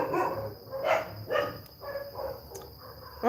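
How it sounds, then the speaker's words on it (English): Several dogs bark outdoors near a garden, giving a run of sharp barks in irregular bursts at moderate distance. "The dogs are so noisy."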